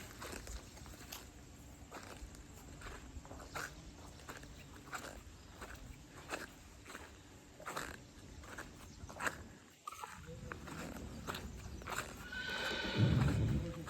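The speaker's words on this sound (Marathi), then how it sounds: "घोड्याचा आवाज आता ऐकला असताना तुम्ही" Horse hooves clip-clop in a steady rhythm for most of the stretch, ending with a loud neigh close by.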